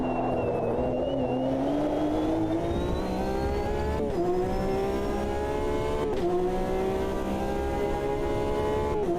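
A Porsche GTE race car in the sim racing game Automobilista 2, its engine droning at high revs and climbing steadily in pitch through the gears with brief shift dips, loud and continuous with no talking.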